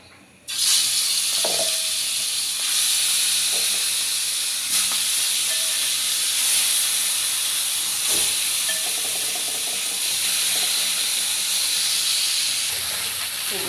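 Pieces of rohu fish head fry in hot oil with a steady, loud, hissing sizzle that carries on without a break, with a few faint knocks from the pan.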